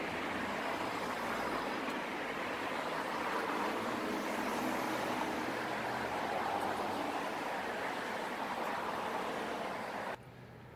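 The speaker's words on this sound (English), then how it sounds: "And now we can listen to the traffic." Street traffic along Sunset Boulevard: a steady, dense wash of road noise and engine rumble that holds level throughout, then drops off abruptly near the end.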